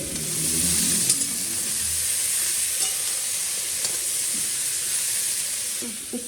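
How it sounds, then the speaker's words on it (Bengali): Steady sizzling of bitter gourd, potato, long beans and pumpkin frying in a pan, a broad hiss throughout with a few faint clinks and light stirring noises. "এই যে ভাজা বসিয়েছি এখানে উচ্ছে আলু বরবটি আর কুমড়ো"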